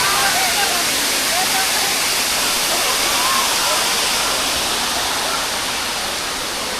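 Areeckal waterfall in Piravom roars in a heavy rain, a loud, continuous broadband rush of falling water close by, steady throughout with no voices.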